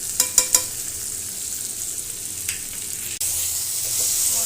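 Spices go into a pan of lightly fried potatoes and vegetables; a few sharp scrapes come first, then a steady close sizzle that jumps louder partway through and keeps hissing, with no talking.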